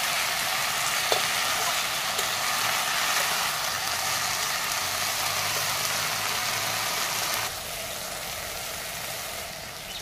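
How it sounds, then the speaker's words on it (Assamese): Bonmora greens fry in a pan with a dense, steady sizzle that fills the whole stretch, close and even, easing slightly softer near the end with no talking. "এতিয়া বনমৰাখিনি দি এনেকৈ ভাজি ল'ম অকণমান।"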